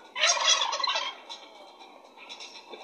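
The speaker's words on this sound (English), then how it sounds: "The turkeys have escaped in mass numbers." Turkeys gobble in a Roblox video game, a loud burst of overlapping gobbling calls that fades into quieter, scattered gobbles, with no talk over it.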